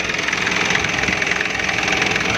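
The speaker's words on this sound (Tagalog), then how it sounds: "So 2007 model na Kia G2 ang makina po ito." A 2007 Kia G2 engine still running with the key in the off position, a loud, steady mid-pitched idle with a rapid knocking pulse, heard up close and continuous without speech.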